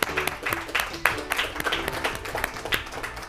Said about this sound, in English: Nice round of applause for that Heather Hills team.